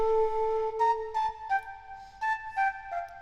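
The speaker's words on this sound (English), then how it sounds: "I added this flute" A breathy synthesized flute, the Jubal flute from the Contact plugin played on a keyboard, plays a short melody of sustained and stepping notes, clean and alone with no other instruments.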